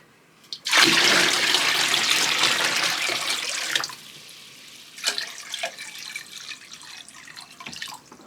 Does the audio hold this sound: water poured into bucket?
yes